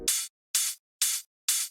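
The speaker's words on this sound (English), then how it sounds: "A simple hi-hat loop." A simple hi-hat loop in an LMMS future house drum pattern plays four evenly spaced, bright, hissy hits, each lasting about a quarter second, alone and moderately loud.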